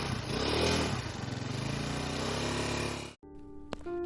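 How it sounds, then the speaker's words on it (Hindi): A motorcycle engine revs and runs steadily for about three seconds, then cuts off abruptly, leaving faint clicks and quiet tones. "करीब 20 मिनट बाद बाहर बाइक की आवाज सुनाई देती है"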